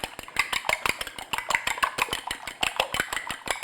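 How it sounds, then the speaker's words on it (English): Whole eggs and egg yolks whisked briskly in a bowl, a steady rapid rhythm of sharp clinks and taps of the whisk against the bowl, close and clear with no talk. "And I'm just going to whisk them."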